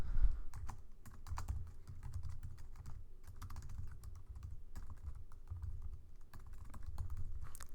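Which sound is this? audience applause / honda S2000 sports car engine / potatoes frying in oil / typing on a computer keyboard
typing on a computer keyboard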